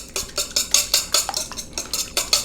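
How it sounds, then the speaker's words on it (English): Eggs whisked together in a bowl for a pecan pie: quick, regular clicking strokes of the whisk against the bowl, close and clear, with no talking. "we're just gonna take and whisk these here eggs together"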